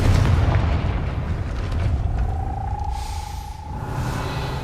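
A booming fire-spell blast in Hogwarts Legacy, heavy low rumble filling the whole moment with a rising tonal whine over the top, loud and sustained.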